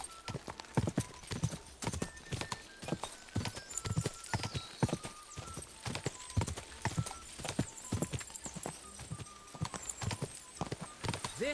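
Horse hooves clip-clopping steadily in the medieval video game Kingdom Come: Deliverance 2, a quick rhythmic trot or gallop close by, with occasional tonal game sounds and brief voices.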